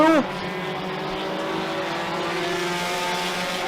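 Four-cylinder race cars roar around Merrittville Speedway on the final lap, a continuous layered engine drone with one car's pitch dipping sharply at the start.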